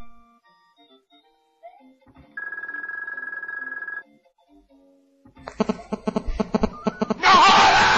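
A mobile phone rings with a steady electronic tone lasting under two seconds. It is followed by a burst of loud, jumbled music and noise.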